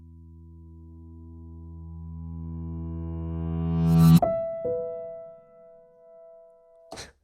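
A reversed audio sample, a sustained tone swelling steadily louder over four seconds before cutting off abruptly, followed by a short higher tone and a final quick burst.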